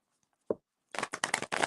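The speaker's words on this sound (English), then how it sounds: "So let's get 5 shuffles" Tarot cards being shuffled: a brief soft tap, then a second of dense papery riffling in a few quick bursts, close and fairly quiet, with no voice.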